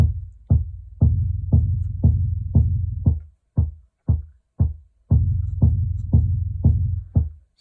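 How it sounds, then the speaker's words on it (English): A modular synthesizer clock pulse feeds a reverb, giving a regular series of deep thudding hits about twice a second, each trailing a short hum and decay, with a few brief gaps in the rhythm. "So that's a clock pulse going into that, and it's kind of adding a little reverb there."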